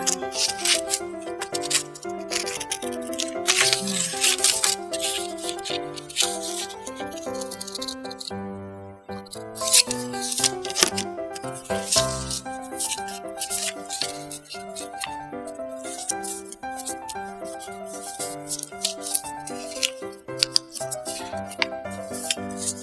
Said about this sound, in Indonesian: kita ambil gunting nih, kita akan gunting